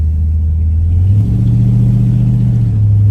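A 1965 Chrysler 300L V8 revs up, a loud, deep rumbling engine note rising in pitch partway through and holding there, heard close with no talking.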